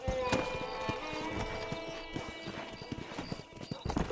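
Horse hooves galloping in Red Dead Redemption, a rapid rhythmic clip-clop close by and fairly loud, with a brief whinny and voices talking over it.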